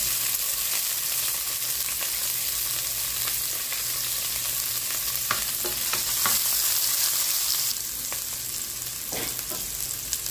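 Onion and garlic sizzle in hot cooking oil, a dense, bright frying hiss that runs steadily up close, broken by occasional scrapes and clicks of stirring, with no talking.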